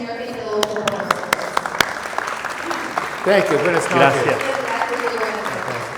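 Audience applause of appreciation for a translator at a Spanish-language talk on rebuilding after infidelity, a burst of clapping with sharp individual claps mixed into steady applause, with a voice briefly speaking thanks over it.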